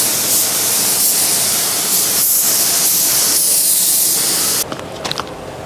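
A paint spray gun lays another coat of yellow paint on an abandoned Evo 8 under rebuild, giving a loud, steady, close hiss that swells and dips slightly before cutting off near the end.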